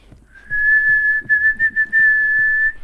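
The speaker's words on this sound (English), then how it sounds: "Let's see if I can whistle." A person whistles a single clear, sustained tone for over two seconds with brief flutters and breaks, close and alone with no other sound.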